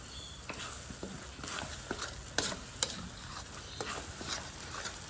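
Onions frying for a Malaysian chicken curry, a steady close sizzle with stirring scrapes and a few sharp crackles, continuous and fairly quiet with no talk.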